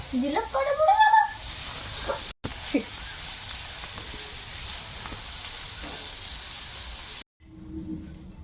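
Bitter gourd slices frying in a pan and starting to burn and blacken give a steady, close sizzling hiss, with a voice briefly at the start and two short dropouts.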